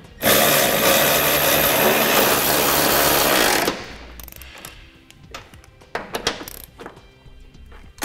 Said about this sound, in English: Then we'll snug our bolts down.